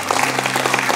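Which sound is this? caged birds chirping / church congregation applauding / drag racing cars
church congregation applauding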